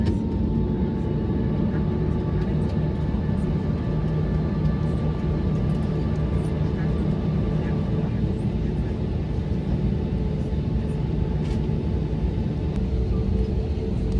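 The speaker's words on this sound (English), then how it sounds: "Following a very uneventful taxi, we were ready for departure." A British Airways airliner taxiing before departure, heard from inside the cabin as a steady, loud low engine rumble with faint tonal whines and no change in level.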